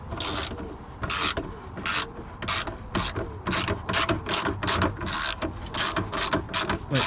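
Ratchet undoing pre-oiled fuel tank strap bolts on a MINI Cooper R-series, heard as a close, loud run of rapid clicking ratchet strokes in an even back-and-forth rhythm with no talking.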